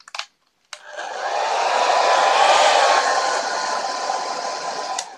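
Hairdryer blowing steadily for several seconds while heating the SPI flash memory chip of an HP Pavilion 22xi monitor under repair, a close, constant whoosh after brief clicks at the start.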